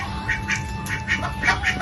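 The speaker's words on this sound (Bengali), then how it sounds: "দেখো তো দেখো বন্ধুরা হাঁসগুলো এখন বাড়ি এসে গেছে" Ducks quack repeatedly in short nasal bursts, several calls overlapping at close range over a low steady background hum.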